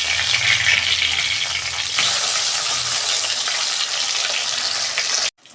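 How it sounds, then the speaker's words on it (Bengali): Pomfret fish fries in hot oil in a wok with a loud, steady sizzle and crackle close by, continuing without talk until it cuts off abruptly at the end. "এইরকম করে আমি প্রত্যেকটা মাছ ভেজে নেবো একটা একটা করে।"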